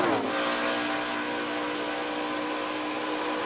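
A NASCAR Camping World Truck Series race truck at Las Vegas carries its engine through a corner, a loud, steady high-pitched drone held near full throttle with strong harmonics, sweeping past close up with no talk.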